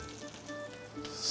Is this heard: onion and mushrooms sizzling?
yes